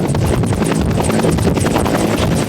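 A firefighting helicopter heard up close, its rotor producing a loud, rapid, continuous thudding chop over a heavy engine roar that stays constant throughout.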